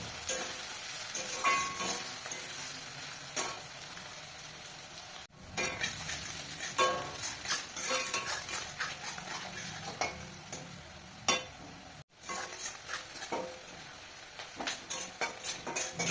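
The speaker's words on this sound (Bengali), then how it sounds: "পেঁয়াজ দিয়ে ভালো করে লাল করে ভেজে নেব।" Chopped onions sizzle in a pan, frying until reddish-brown, with scraping stirs from a spoon cutting through a continuous crackling fry, plus a couple of sharp knocks against the pan's edge.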